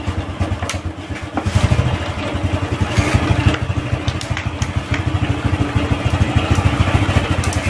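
A rain-soaked motorcycle engine with water in its exhaust runs close by with a rough, rhythmic putter and some mechanical clatter, staying steady without cutting out.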